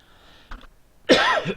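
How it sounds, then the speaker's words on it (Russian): A person with a cold lets out a short cough, then a louder, harsher cough burst a moment later, close and clear against a quiet background. "К сожалению, я простыл, поэтому кашляю."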